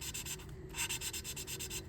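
A car engine valve rubbed back and forth by hand against its seat with lapping compound, a steady gritty scraping that pulses in quick rhythmic strokes, close and fairly smooth.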